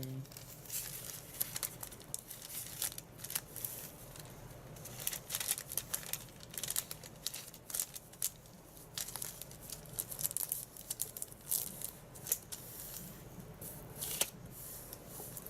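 Paper being handled and clipped with a CADY corner rounder: crinkling and sharp little snips scattered throughout, close and fairly quiet, with occasional soft speech.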